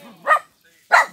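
Two sharp, high yips from a small dog, a brief pause between them, close by.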